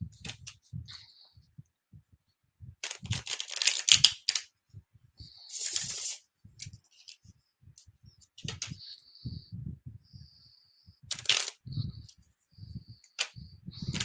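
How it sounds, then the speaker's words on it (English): A deck of oracle cards is shuffled by hand in short bursts of crisp riffling and snapping, separated by quiet gaps and soft low taps, close and fairly faint. "You shuffle really nice too, by the way."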